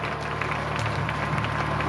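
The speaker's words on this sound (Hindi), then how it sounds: "जोरदार ताली बजाएं" Audience clapping at a village stage programme in Rajasthan, steady dense applause from a crowd, continuous and moderately loud for about two seconds with a low hum underneath.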